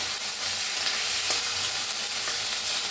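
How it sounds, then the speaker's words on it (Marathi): Onion and tomato frying in a pan for matki usal, a dense continuous close sizzle with faint stirring, loud and steady throughout. "लाल होईपर्यंत भाजून घेऊया आपण कांदा"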